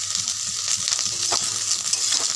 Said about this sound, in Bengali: তেলের মধ্যে ভেজে রাখা এই ঢ্যাঁড়সটা আমি ছেড়ে দিলাম। এটা আস্তে আস্তে ভেজে নেবো ভালো করে।